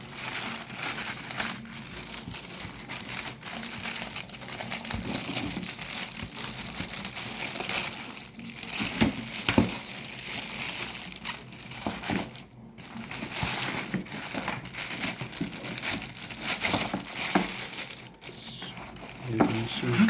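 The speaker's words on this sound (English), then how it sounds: "unwrap this keyboard." Plastic packaging around an A4TECH wireless keyboard is unwrapped, giving continuous close crinkling and crumpling with sharp rustles and brief pauses across about twenty seconds, with no talk.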